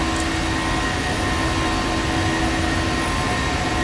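Ryanair airliner jet engines in a flight simulator during the climb after takeoff, a constant loud drone with steady tonal whine throughout.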